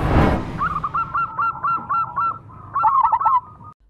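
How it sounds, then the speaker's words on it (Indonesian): A perkutut, or zebra dove, calling up close: a quick series of short, bright, evenly spaced trilled notes, a brief pause, then another faster run of notes. "Burung perkutut."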